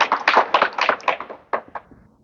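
A retreat audience bursts into a short round of applause, a quick flurry of close, sharp claps that thins out and fades within about two seconds.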